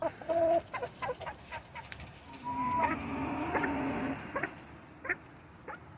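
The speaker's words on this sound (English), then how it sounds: "Chickens are their own background noise." Chickens cluck and squawk in a busy, irregular chorus, with sharp calls cutting over a steady murmur of more clucking nearby.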